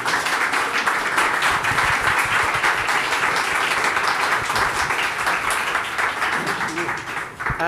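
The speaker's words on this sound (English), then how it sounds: "I'm going to invite the audience to give them a warm round of applause" Audience at a panel discussion on AI applauds the panelists with a dense, sustained burst of clapping that continues steadily, tapering slightly toward the end.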